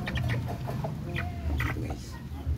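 Chicken clucking in close, short bursts while it is being handled, with low rustling and background noise underneath.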